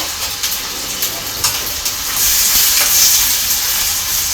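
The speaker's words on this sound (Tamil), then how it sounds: "இப்போ சோம்பு கட் பண்ணி வச்சு கோவக்காய் போட்டுருங்க" Ivy gourd and fennel seeds sizzle and hiss steadily in a hot pan, a dense close frying noise that swells louder midway with occasional stirring scrapes.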